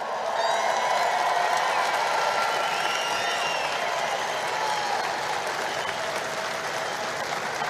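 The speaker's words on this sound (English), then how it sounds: "Round of applause for them." A large crowd at a political rally in Cleveland, Ohio applauds steadily, with scattered cheers and whoops blending into a dense wash of clapping that holds throughout.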